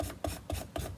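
A Norwex silver dish pad scrubs a surface with a rasping rub, four even back-and-forth strokes in steady rhythm, close and fairly loud with no talking.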